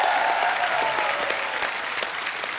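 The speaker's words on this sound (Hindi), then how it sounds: "अजय सर के लिए और काजल मैम के लिए जोरदार तालियां।" Dense studio audience applause on a Hindi comedy talk show, a steady continuous wash of many hands clapping at full level for about two and a half seconds with no talking over it.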